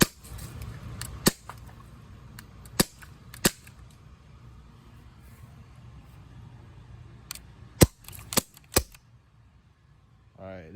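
An Umarex CO2 BB gun fires a series of sharp, snappy pops spaced irregularly, a few close together, with quiet gaps between shots.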